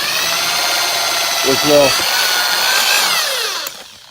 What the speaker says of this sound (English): I'm starting with a smaller drill bit